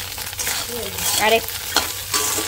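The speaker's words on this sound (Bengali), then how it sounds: "ডিমটা প্রায় ভাজা হয়ে এসছে, আর একটু ভেজে নেব" Egg frying for chowmein crackles and sizzles steadily in a pan while a spatula scrapes and stirs it in short, close strokes.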